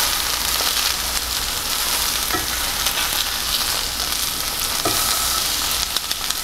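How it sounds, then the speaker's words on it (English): Deer tenderloin sears in a hot pan with a loud, steady sizzle and crackle close up, punctuated by a few faint scrapes, with no talking. "You got a good sear going."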